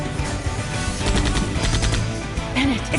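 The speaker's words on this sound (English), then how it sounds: "held the gun up to his forehead, and then, bang!" Rapid gunfire crackles through a cutscene in the adventure game Runaway 3, several sharp, loud shots close together over a busy background with a brief voice.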